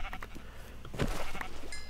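Sheep bleat in the Minecraft game world, a short wavering call rising out of a busy low background, close and moderately loud.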